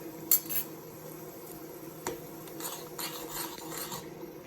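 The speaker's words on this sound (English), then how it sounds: "Now I'm gonna add coriander leaves and coconut to my tadka" Coriander leaves and grated coconut go into a tadka in a pan for khaman dhokla, giving a few soft metallic clinks and scrapes of a utensil against the pan over a faint background, with one brighter clink early and a small knock midway.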